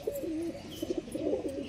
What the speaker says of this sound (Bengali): টিক্কি লাইনের মাদি পায়রা আছে